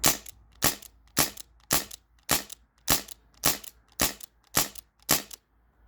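An Umarex Brodax BB revolver fires ten evenly spaced shots, each a sharp, loud, close crack with a short decay, in a steady rhythm of about two per second with no talking.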